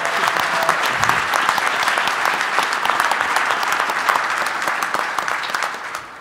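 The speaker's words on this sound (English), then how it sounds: "everyone give an applause to Rich." A panel audience applauds Rich Trouton at a 2018 security conference, a dense, steady wash of clapping from many hands that holds for several seconds and thins slightly at the end.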